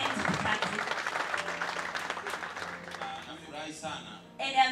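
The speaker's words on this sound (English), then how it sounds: "Please clap our hands for Kataxi." An audience at a Congolese community International Women's Day celebration in Western Australia claps, with brief, moderately loud applause under and between a speaker's voice.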